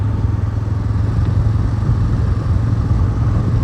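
A motorcycle riding along an empty beach, its engine a loud, close, steady low drone with rumbling wind buffeting and no break.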